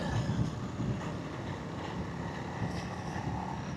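A Honda CRF300L dual-sport motorcycle fitted with a Race Tech front spring kit, ridden on back roads near Red Mountain, gives a steady engine drone mixed with heavy wind rush, continuous and fairly loud throughout with no talk.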